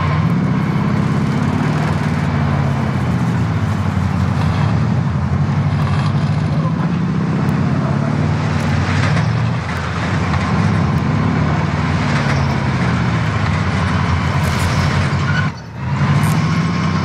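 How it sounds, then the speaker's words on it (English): Truck engine running in a video game: a steady, loud droning engine rumble with a continuous low hum throughout, briefly dipping near the end. "Ah, this is a new truck."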